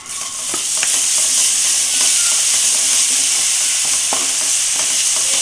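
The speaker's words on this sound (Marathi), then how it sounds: "मस्त तेल सुटेपर्यंत मसाला भाजून घ्यायचा" Masala with tomato paste frying in oil for a live crab curry, a loud, steady sizzle and hiss with occasional spatters and light scraping, close and continuous, no voices.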